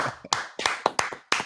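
A few sharp, uneven claps from one or two people on a casual talk show, roughly six distinct close hand strikes in quick succession, with no crowd behind them.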